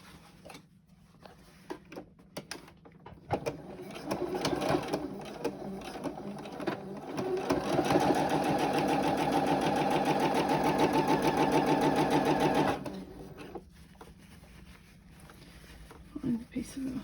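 A sewing machine runs in bursts, then hums steadily for several seconds while back stitching fabric for a face mask, with a person talking quietly before and after.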